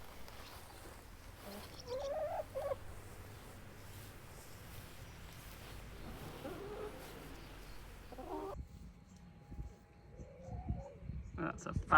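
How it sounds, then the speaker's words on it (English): Chickens roam a farm field in rural France, clucking softly in scattered bursts beneath quiet outdoor ambience, faint and intermittent, with a person speaking nearby at times. "down here you've just got these chickens walking about"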